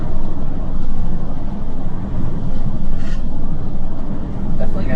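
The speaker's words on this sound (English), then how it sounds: "Definitely got a little bit of exhaust resonance there." Ford E450 RV driving on the road, with a steady low engine and exhaust drone resonating loudly under road and wind noise, swelling and easing slightly over a few seconds.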